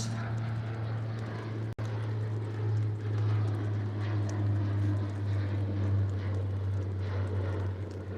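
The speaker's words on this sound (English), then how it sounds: "So one plane just taking off right up ahead." A steady low propeller-engine drone, continuous and fairly loud, with a constant hum dominating throughout and no talking.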